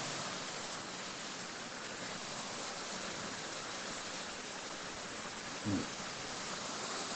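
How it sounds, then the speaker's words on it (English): Heavy rain pours in a steady, even hiss that fills the whole stretch, with one brief low thump near the end. "It starts raining heavily."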